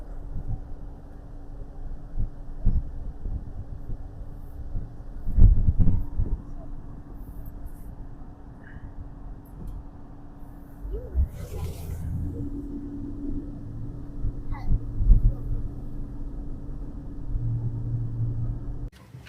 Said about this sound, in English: that is a sound of our engine.